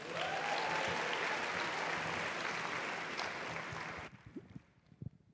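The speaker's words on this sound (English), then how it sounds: "let us give them one more collective round of applause" Dense, sustained applause fills a large hall at a national town hall gathering, steady and broad for about four seconds before cutting off abruptly into quiet with a few scattered claps.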